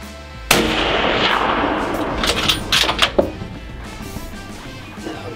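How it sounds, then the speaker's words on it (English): A single loud gunshot cracks out close by during a hog hunt, its boom rolling and echoing away for several seconds with scattered rustling afterward. "Finally, I talked my brother into taking a pop shot"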